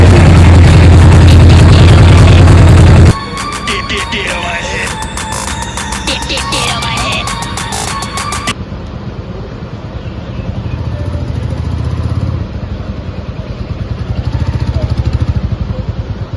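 Royal Enfield Bullet Standard 350 single-cylinder motorcycle engine and exhaust, a loud steady low throb for a few seconds, then a quieter continuous idling thump that carries on alone to the end.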